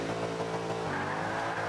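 A Speed GT500 race car in the Forza 5 video game accelerates at the back of a B Class race grid, its steady loud engine drone rising in pitch with the roar of other cars around it.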